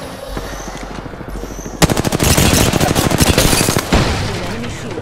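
Sustained automatic gunfire in the Apex Legends battle royale, a dense fast volley of shots breaking out after a quieter stretch and continuing loud and close for several seconds.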